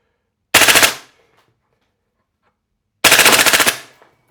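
An EMG CGS DDM4 PDW airsoft rifle fires two separate full-auto bursts of about half a second each at roughly fifteen rounds per second. The bursts are sharp, loud and close, with silence between them.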